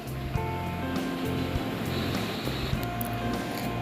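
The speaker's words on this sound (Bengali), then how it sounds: "দেখো, তোমাদের সাথে কথা বলতে বলতে ডিমের ঝোলটা প্রায় ফুটে গেছে।" Egg curry boiling in a pot on a home stove, giving a steady, close bubbling and hissing simmer that runs without pause and without talk.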